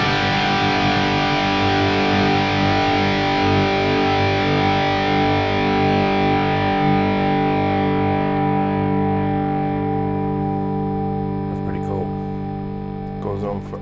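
Gibson Les Paul 58 True Historic electric guitar ringing out a distorted chord that sustains and slowly fades, loud and close, with faint voices underneath.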